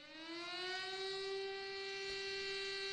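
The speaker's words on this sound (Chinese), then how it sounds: "南京全城拉响防空警报。" An air-raid siren sounds across Nanjing during a national memorial ceremony, a single sustained, steady wail held evenly from a distance.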